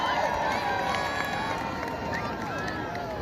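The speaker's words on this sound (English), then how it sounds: "Crowd cheering." Crowd at a hot air balloon event with special shaped balloons, a continuous outdoor murmur of many people with scattered cheers, fairly distant.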